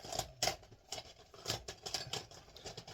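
Soft, quick riffling and flicking of cards, a few close shuffling bursts in irregular rhythm, fairly quiet with no talking.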